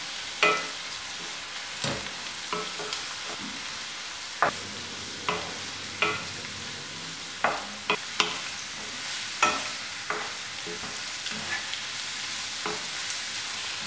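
Onion, crushed ginger, garlic and green chili sauté in a pan for a Kerala chicken curry, a steady soft sizzle broken by a dozen or so sharp scraping stirs of a spoon at irregular intervals.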